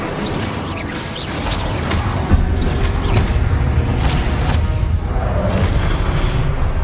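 Spells cast during combat in a Hogwarts video game, dense layered booms, crashes and whooshes rolling continuously with sharp bright bursts scattered throughout, loud and busy.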